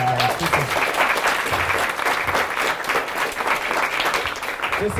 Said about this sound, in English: I want to give Catherine a big round of applause